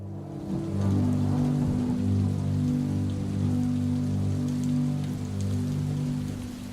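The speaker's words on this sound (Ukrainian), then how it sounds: "На найвищих вершинах падає перший дощ." Early Hadean Earth's first rain falls on the highest mountain peaks: a loud, steady downpour hiss that runs the whole stretch, with a low sustained droning tone underneath.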